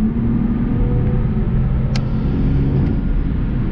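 Toyota Camry TRD sedan with a big V6 engine under steady load, a loud, continuous low rumble that holds fairly even throughout, with no talk over it.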